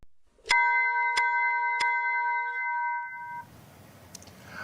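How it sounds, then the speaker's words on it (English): A bell rings three times for last call during a live Artemis II splashdown broadcast. Each strike is clear and sustained, and the tones linger together before giving way to a soft background hiss. "that bell means it is time now for our last call"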